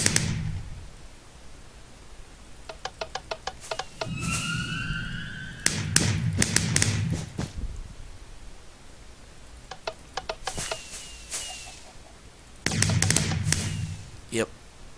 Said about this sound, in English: Showing you guys some fireworks.